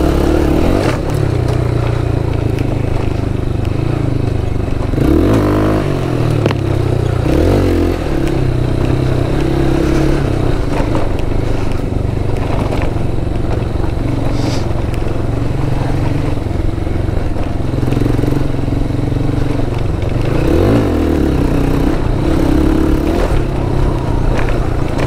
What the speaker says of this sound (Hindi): एक स्पोर्ट्स बाइक को ऑफ रोडिंग में, वो भी अपने साथ।